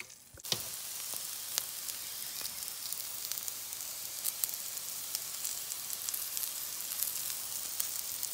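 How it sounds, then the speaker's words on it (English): Onions and peppers sizzle steadily in a hot pan, a close, continuous crackling fry with scattered pops throughout and no voices. "I already got my pan going, so we're going to saute the vegetables"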